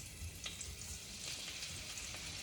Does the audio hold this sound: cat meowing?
no